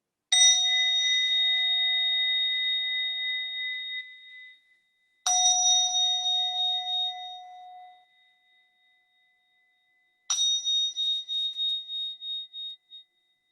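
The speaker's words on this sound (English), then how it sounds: "I'll ring the bell 3 times" A mindfulness bell struck three times, each strike a clear bright ding with a long shimmering ring that fades slowly before the next, the last one dying away more quickly, heard alone in silence.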